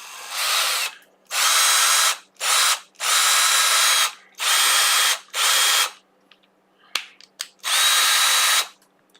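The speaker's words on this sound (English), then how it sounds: "So now we have a different screwdriver." A power screwdriver whirs in a series of short bursts, about seven runs of a second or so each separated by brief pauses, close and loud, during work on a broken guitar headstock.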